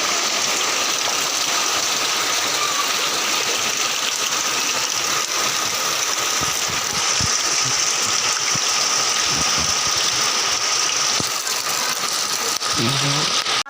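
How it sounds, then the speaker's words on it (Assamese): Heavy rain pours down steadily in a hot Assamese setting, a dense continuous hiss of drops close by, with an engine-like rumble beneath and a few thuds near the end. "পূৰা বৰষুণ দিছে"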